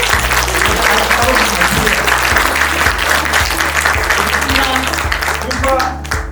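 Graduation audience applauding the team: a dense, loud wash of many hands clapping, steady throughout and tapering slightly at the end.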